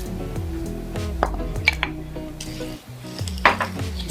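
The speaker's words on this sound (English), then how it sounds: "Just mix everything together" Sugar, corn and other ingredients for maja blanca stirred together in a pot, with a spoon clanking and scraping against the metal over a steady tonal background, a few sharper knocks standing out.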